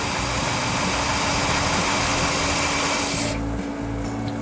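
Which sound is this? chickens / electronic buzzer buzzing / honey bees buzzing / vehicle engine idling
vehicle engine idling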